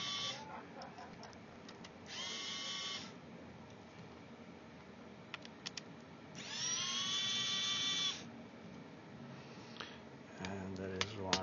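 A powered screwdriver backs out the fan screws inside an MSI Pulse GL66 gaming laptop, with two distinct whirring bursts of a few seconds each and a brief final buzz against faint background noise.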